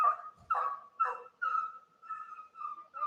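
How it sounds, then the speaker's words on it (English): A beagle bays in a string of drawn-out, far-off calls as it runs a trail through a hollow, the calls faint but steady with brief pauses between them. "You can hear the holler beagle. He's on the trail of something."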